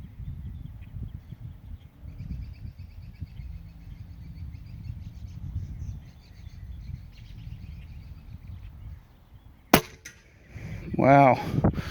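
A rifle fitted with a Pinty 3-9x40 AO mildot scope fires a single sharp shot late on, cutting through steady outdoor background noise, followed by a brief ringing tail and some rustling.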